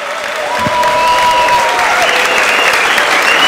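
Audience applause closing a science slam talk on ballistics, a dense, steady wash of clapping that swells quickly and holds loud and close for the whole stretch, with no speech over it.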